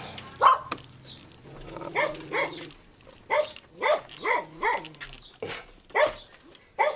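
A dog barks repeatedly at close range, a series of sharp, loud barks in irregular bursts with brief pauses between them.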